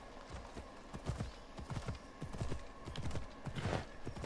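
Steady clip-clop of horse hooves trotting at a moderate pace in the video game Assassin's Creed Odyssey, close and fairly loud, with a bright swell near the end.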